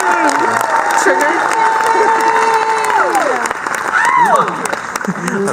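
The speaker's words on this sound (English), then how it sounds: "why don't we give Minnie a big round of applause" Crowd applause and cheering for Minnie Mouse at a Disney park event, broad clapping under a loud amplified announcer voice and some shouts.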